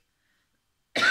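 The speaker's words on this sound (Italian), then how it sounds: "E adesso perché mi viene da tossire?" A woman gives a single short, close cough that breaks a silent pause, loud and abrupt at the very end.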